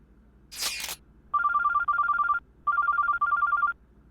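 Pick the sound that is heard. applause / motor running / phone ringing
phone ringing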